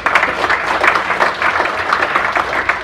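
A forum audience in New York applauds Vietnam War veterans, close and steady clapping with distinct individual claps lasting the whole stretch.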